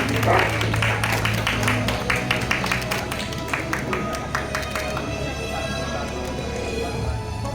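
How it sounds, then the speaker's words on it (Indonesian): An audience at a school event in Kediri claps steadily for several seconds, the applause thinning slightly toward the end, with some voices mixed in. "Boleh kita berikan tepuk tangan sekali lagi."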